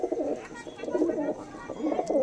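Tournament racing pigeons coo in repeated low, throaty rolls, close and fairly steady across the moment, with a few brief pauses between phrases and no talk over them.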